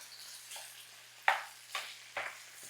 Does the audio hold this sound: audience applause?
no